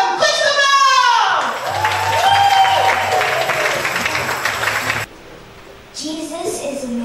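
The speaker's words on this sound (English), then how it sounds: "give her a round of applause" Applause and cheering from a church audience welcoming a young singer to the stage, loud and full, with excited voices and shouts mixed in, then cutting off abruptly before a quieter stretch with a voice resuming.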